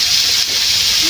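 Fish pieces fry in a pan of oil, giving a loud, steady, close hiss and sizzle that holds without a break through the short moment.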